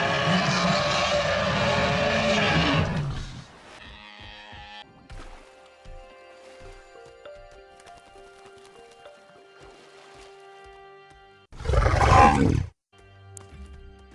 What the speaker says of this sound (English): It sounds like the Giganotosaurus is here.